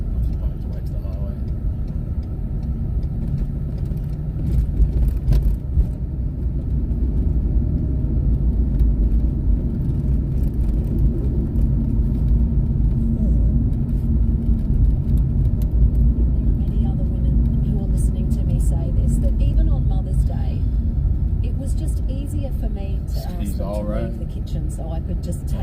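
Steady low road rumble from inside a car driving home on a road from Spring Mountain, continuous engine and tyre noise throughout with occasional brief voices in the cabin.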